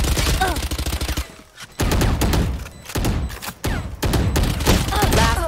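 Rapid bursts of gunfire from the video game Valorant, loud and dense, broken by brief pauses, with a voice speaking over the shooting.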